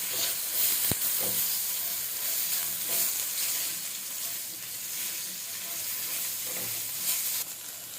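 Brinjal pieces sautéed in hot oil with salt and turmeric give a loud, steady sizzle close by, broken by occasional scrapes of a stirring spoon, with no one talking.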